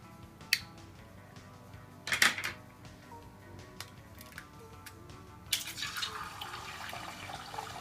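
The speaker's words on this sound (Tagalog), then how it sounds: "ipiprito natin ang itlog" An egg frying in a little oil: a few light clinks and taps, then a soft, steady sizzle starts partway through and keeps going.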